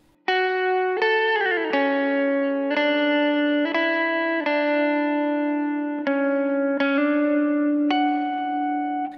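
Electric guitar run through effects plays the lead part of a song, a series of sustained, ringing notes and slides sounding alone, steady and close, with shimmering modulation and a fresh note struck every second or so.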